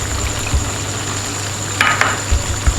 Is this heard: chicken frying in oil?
yes